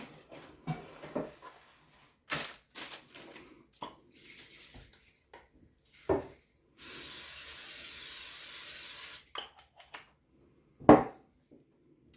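Cooking spray hisses onto a 9x13 baking pan in one continuous burst of about two and a half seconds, set among scattered kitchen clatter and handling noises.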